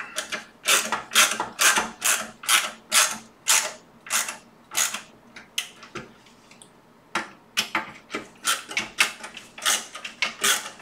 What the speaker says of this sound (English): It's still the screw is grabbing. It's pulling it up, snugging it nice and tight here.